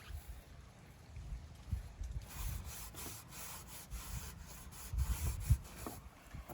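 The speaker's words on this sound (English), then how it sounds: "we are going to put a little bit of dark wax on the frame" Cloth rubbing dark wax onto a wooden bed frame during a bedroom makeover: soft, repeated scrubbing strokes with light knocks, faint and close, with no talking.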